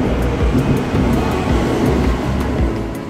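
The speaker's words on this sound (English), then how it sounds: "First train ride ever." A Tokyo train in motion gives a loud, continuous rumble with rhythmic low thumps from the wheels over rail joints, close and steady, with no voices.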